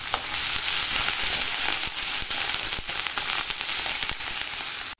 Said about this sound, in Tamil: இப்போ இந்த எண்ணெயில் வந்து தட்டி வச்ச வெங்காயத்தையும் கருவேப்பிலையும்